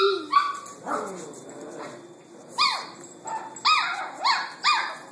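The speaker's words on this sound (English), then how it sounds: "That's Rocco barking" A dog hiding under a sofa gives a series of sharp, moderately loud barks and yips, some slightly muffled, spaced irregularly and then coming in a quicker run of four toward the end.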